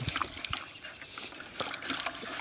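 Iris roots are swished and rinsed in a bucket of water, producing irregular splashes, trickles and sloshes close by, with a few sharper splatters between the softer dribbling.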